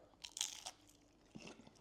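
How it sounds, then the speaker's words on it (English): Loud, close crunching as cornflake-coated fried halloumi is bitten and chewed, a few sharp crackling bursts followed by a second crunchy bite. "Can you hear the crunch?"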